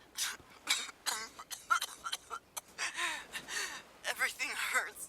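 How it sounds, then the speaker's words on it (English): A character in the video game WILL: Follow the Light coughs repeatedly in ragged bursts, broken by gasps and strained breaths, close and fairly quiet. "I start coughing again and can't stop shaking."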